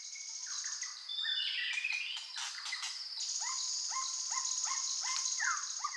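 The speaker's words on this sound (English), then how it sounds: "It could be something such as these birds singing in a national park in Vietnam" Several birds sing and chirp together outdoors in a national park in Vietnam, with repeated rising whistled calls and busy tweeting overlapping in a lively, continuous chorus.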